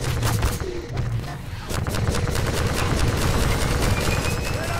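Rapid bursts of gunfire from Half-Life 2: Episode Two, loud and dense, with repeated shots rattling over a heavy rumbling backdrop.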